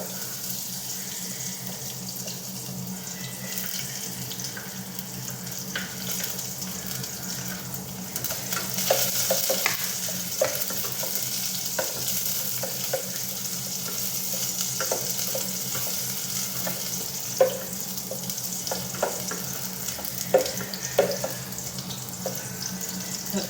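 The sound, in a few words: garlic frying and being stirred in a pan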